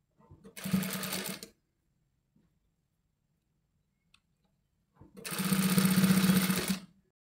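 Sewing machine stitching lace onto the side fitting of a kurta, two loud runs of rapid mechanical stitching separated by a quiet pause.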